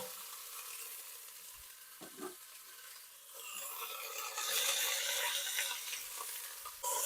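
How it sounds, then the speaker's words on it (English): A chunk of fatty beef for birria tacos sears in a hot pan with a steady broadband sizzle that grows louder partway through, dotted with a few soft clinks and shifts, and no talking. "And we're just going to do a quick sear."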